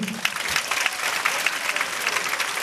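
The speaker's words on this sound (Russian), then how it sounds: "А также мы хотим поприветствовать сегодня всех вас бурными вашими же аплодисментами." Audience at a KVN comedy team performance bursts into loud, sustained applause, dense clapping filling the whole stretch without pause.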